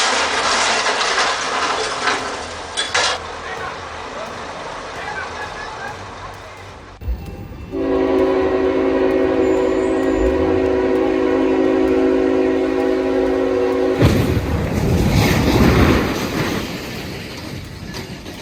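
Train horn sounding at a railroad crossing, a long steady multi-tone blast held for several seconds, preceded and followed by loud rumbling and clattering noise with faint voices.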